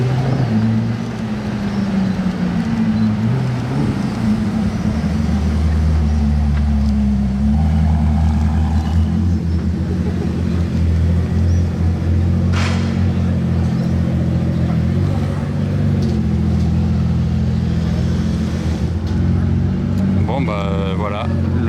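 Hypercars, including a Pagani Huayra BC, arrive in a convoy in Monaco with a steady, deep engine drone that swells slightly. People talk over the rumble, and a brief higher revving sweep comes near the end.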